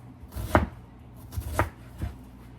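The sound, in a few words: knife chopping bell pepper and onion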